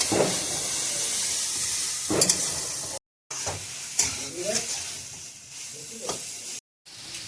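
Whole cardamom pods and bay leaves sizzle in a pan of carrot halwa, with a soft, steady frying hiss broken by a few scraping stirs of a spatula; brief gaps of silence interrupt the sound twice.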